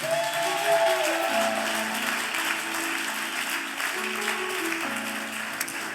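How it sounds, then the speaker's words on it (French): A church congregation at a French-language service applauds and cheers for the Lord, a dense steady clapping with voices rising beneath it, sustained throughout without pause. "Est-ce que quelqu'un peut acclamer le Seigneur?"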